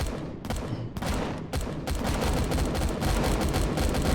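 Dense, sustained gunfire from the video game Empyrion Galactic Survival (Alpha 11.5), a loud rattling fusillade of rapid shots with heavy booming bursts, continuous throughout with no talk.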